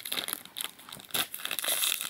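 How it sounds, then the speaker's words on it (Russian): Close-up crinkling and tearing of a thin plastic snack packet, several sharp rustling bursts in quick succession. "Откроем еще пакетик."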